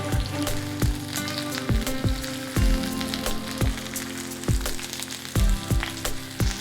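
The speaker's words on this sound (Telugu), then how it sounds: "ఆయిల్ వేడెక్కిన తర్వాత మనం కట్ చేసి పెట్టుకున్న కాకరకాయ ముక్కలు వేసుకోవాలి ఈ కాకరకాయ ముక్కలు బ్రౌన్ కలర్లోకి వచ్చే వరకు వేయించుకోవాలి" Bitter gourd pieces frying in hot oil, a steady crackling sizzle throughout with repeated clanks of a spatula or ladle against the pan at irregular intervals, close and fairly loud, with no voices.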